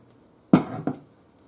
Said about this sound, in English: I'm going to mix my egg first to make sure that it's broken up